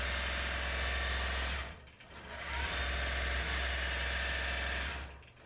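A Gammill longarm quilting machine stitches an edge-to-edge pattern on a sunflower quilt, its rapid needle chatter humming steadily, pausing briefly twice and then resuming.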